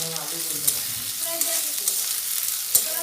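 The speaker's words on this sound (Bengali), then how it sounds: "মশলাটার জন্য আমি কাঁচা লঙ্কা পেস্টটা ভেজে নিচ্ছি, আদা রসুন" Green chili paste fries with ginger and garlic as the spice mix for Bengali potato chops, giving a steady close sizzle with the scrape of stirring and a few sharp clinks of a utensil against the pan.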